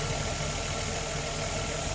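The 3.5-litre engine of a 2004 Nissan Maxima, a salvage motor just swapped in, idles in a steady, even hum with a faint low rumble, close and uninterrupted.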